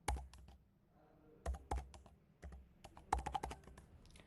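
Someone types a date of birth on a computer keyboard in a quiet room, with close, crisp keystrokes coming in short clustered bursts separated by brief pauses.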